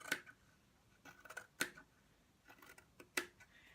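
Sharp scissor snips cutting through boys' shirt fabric down the centre between two stitched lines, a few distinct close crisp cuts spaced apart with quiet pauses between them.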